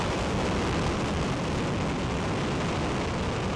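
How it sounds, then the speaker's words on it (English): A five-segment solid rocket motor, the Ares I first stage, firing on a static test stand produces a loud, continuous broadband roar that stays steady throughout with no pauses and no voices. "We have ignition of the Ares 1 first stage 5-segment solid rocket motor"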